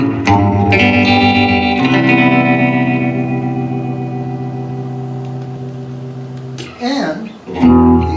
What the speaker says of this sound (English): This particular one, I'm going to show you the vibrato.